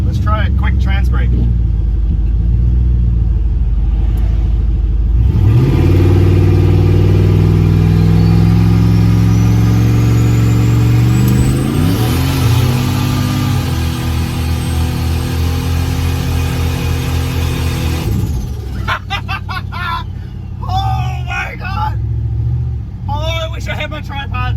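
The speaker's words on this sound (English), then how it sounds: "Let's try a quick transbrake" A car engine revs hard during a transbrake launch, climbing in a loud sustained roar and rising pitch for several seconds before dropping back to a rough rumble, with talking before and after the run.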